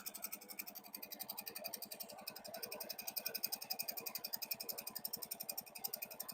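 A bare compressor unit runs wired straight to its motor, without its own wiring, making a steady close mechanical chug with a fast, even pulsing rattle throughout and no talk.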